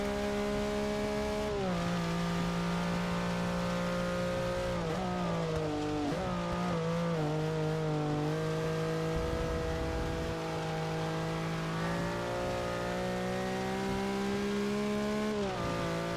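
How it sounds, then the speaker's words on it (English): A Lamborghini Miura racing around a wet Silverstone in Forza Motorsport 6, its engine holding a loud steady drone with pitch dips and rises through gear changes and corners, plus a brief tire squeal. "Why do I feel like this Lamborghini Miura is almost going to put in one of the fastest times around Silverstone in the wet?"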